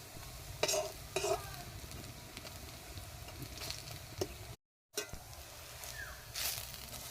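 Vegetables frying in oil in a wok, with a steady close sizzle under repeated stirring and scraping clatters, broken by a brief silent gap.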